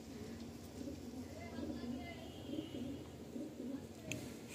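A female pigeon in a pigeon loft gives soft, rhythmic coos, repeated several times at low volume, while someone speaks nearby.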